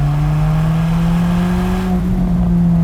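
Mid-engined Alfa Romeo 4C Spyder sports car holds a steady, droning engine note under light acceleration, close and continuous for a few seconds.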